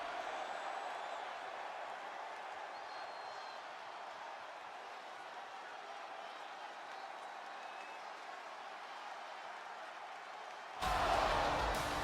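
A steady wash of video game wrestling crowd noise and applause from WWE 2K25 fills the space, continuous and fairly distant, ending with a sudden louder burst.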